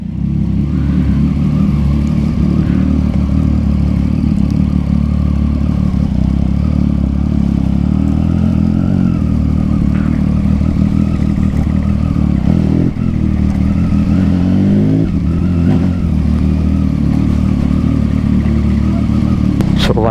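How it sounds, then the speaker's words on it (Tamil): A Triumph Street Triple motorcycle with a Yoshimura exhaust roars loud and close, its engine revving and grumbling steadily as it rides off, with brief rising surges in a continuous, raspy drone. "ஸோ வண்டி எடுத்துன்னு பார்த்தீங்கன்னா கிளம்பியாச்சு. Street triple with யோஷிமாரா exhaust."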